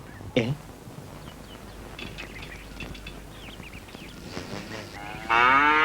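A cow moos loudly once at the start, then a quieter stretch with birds chirping and faint background murmur, ending with another loud, drawn-out low.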